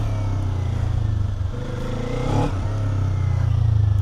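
A 2026 Kawasaki Z500 motorcycle engine running close by, a continuous low throbbing drone that dips slightly and then swells as the throttle opens.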